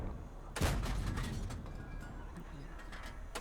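A tank gun fires in a video game: a sharp, booming blast with a rolling rumble, followed by a second burst near the end, heard at moderate volume over low background noise.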